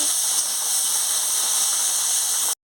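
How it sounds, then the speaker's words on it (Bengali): Chopped onions frying in hot oil for a potato, pointed gourd and fish curry, a loud steady high-pitched sizzle and hiss close by, continuous without talk until it cuts off. "পেঁয়াজের কুচি দিয়ে দিচ্ছি দিয়ে ভালো করে ভেজে নিচ্ছি"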